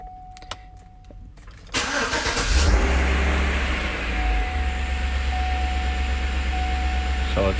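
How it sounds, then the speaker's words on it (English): A 2007-2014 Chevy Tahoe cranks and fires up after an oil change, then settles into a steady, loud idle that holds to the end. "let's turn the truck on"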